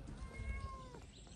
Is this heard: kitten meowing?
yes